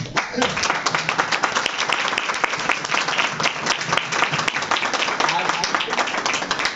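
A church congregation at a healing ministry's ninth-anniversary gathering claps loudly and steadily in a dense, continuous wash of applause that sustains evenly from start to finish.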